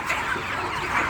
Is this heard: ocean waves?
no